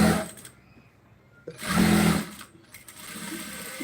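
A sewing machine runs with thread, loud and close in two main bursts of stitching with a quieter mechanical hum between and after them.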